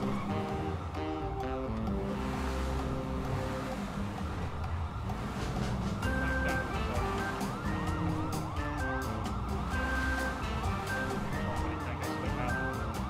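Police sirens wail during a cop chase in GTA 5, with several overlapping sirens looping continuously over engine and road noise, loud and close throughout.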